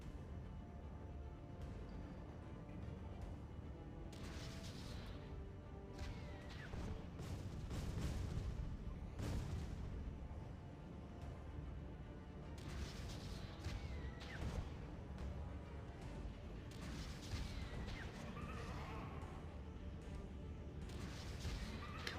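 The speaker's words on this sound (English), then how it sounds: "Love it when the missiles just sit there and miss." Missiles exploding in the Jak and Daxter video game amid ongoing combat, a dense rumble of repeated booms, crashes and whooshes over continuous background game noise, fairly loud throughout with no speech.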